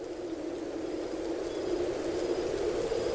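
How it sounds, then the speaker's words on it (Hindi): Heavy storm rain falls in a steady, moderately loud hiss that swells slightly toward the end, with nobody talking. "तूफान धीमा हो गया है, लेकिन बारिश पूरे जोरों पर जारी है।"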